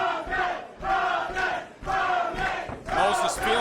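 Wrestling crowd at the South Broadway Athletic Club chanting for Moses, loud rhythmic group shouts in repeated bursts, close and energetic.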